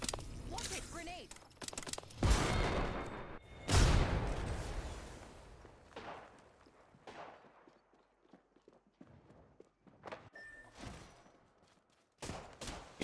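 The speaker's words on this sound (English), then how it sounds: "Watch it! Grenade!" Grenade explosion and gunfire in a shooter video game: two heavy booming blasts close together, then scattered sharp shots and cracks, with a character's voice calling out.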